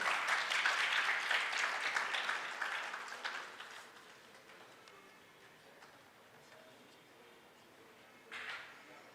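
Hall audience at a Doctor's Day awards event claps, the applause strong at first and then fading to a quiet murmur, with a short renewed burst near the end.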